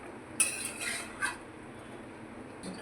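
A lid clatters onto a pot of chicken do pyaza, two sharp metallic clinks close together, then a faint scrape in a quiet kitchen.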